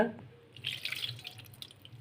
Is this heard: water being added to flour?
yes